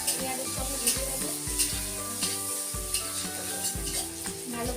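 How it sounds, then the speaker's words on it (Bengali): Crab pieces frying with onion, salt and turmeric in oil, a constant close sizzle punctuated by rhythmic spatula stirs and scrapes against the pan. "কাঁকড়াটা ভালো করে পেঁয়াজের সঙ্গে ভেজে দেবো।"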